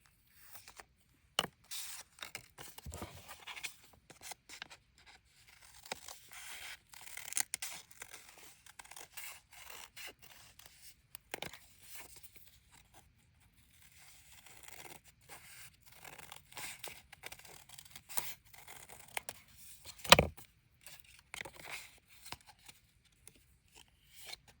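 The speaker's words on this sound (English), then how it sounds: "And then just cut inside the lines." Scissors cut paper shapes for small heart-shaped mini notebooks, making quiet, intermittent snips and papery rustles at close range, with one sharper snip near the end and no talking.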